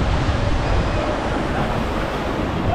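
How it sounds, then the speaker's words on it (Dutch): Water rushes and splashes steadily at a waterfall on an Efteling water ride. The noise is a loud, broadband roar with no break and no talking. "Want we gaan nu de waterval in."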